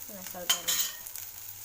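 Ginger and green chilies frying in a pan make a short, faint sizzle with a couple of stirring scrapes, and a voice speaks briefly at the start.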